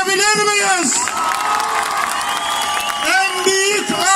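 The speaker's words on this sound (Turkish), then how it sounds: "Büyük alkışımızı Türk bayrağı için alabilir miyiz?" A large crowd at a Turkish Republic 100th anniversary celebration in Ardanuç applauds and cheers for the Turkish flag. The noise is loud and continuous, with shouts and whoops rising above steady clapping.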